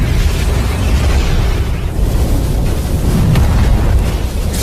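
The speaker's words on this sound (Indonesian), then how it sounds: "kedua kekuatan yang bertabrakan mengakibatkan ledakan yang luar biasa" A massive explosion roars with a deep, sustained rumble, loud and dense throughout, with no voices.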